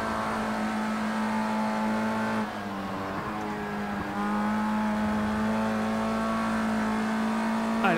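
A Formula Rookie single-seater race car in Project CARS 2 at Donington in the rain drones steadily at high revs, pitch rising and dipping through gear changes over eight seconds, loud and close with no talk.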